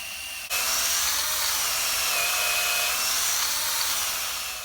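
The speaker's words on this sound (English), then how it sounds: "We're just going to pre-drill all the holes first." A power drill boring pilot holes into timber for allotment raised beds, a loud continuous high whine that starts abruptly and holds steady for several seconds, close and alone.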